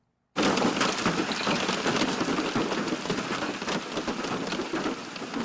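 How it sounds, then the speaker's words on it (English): Large hail pounds a car during a June thunderstorm just off the freeway in Manhattan, a dense, loud, unbroken roar of hard impacts on the roof and body with no voices over it. "Just as I pull off the freeway in Manhattan, large hail bombards the car."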